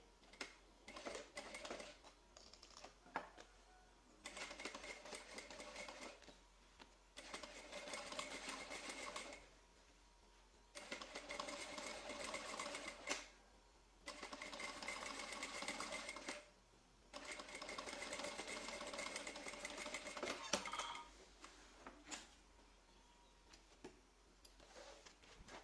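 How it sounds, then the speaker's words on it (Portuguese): Sewing machine topstitching close along the edge of a joined seam in a craft folder piece, running in five long steady bursts separated by short pauses, close and clear with no talking. "e vou rebater essa costura"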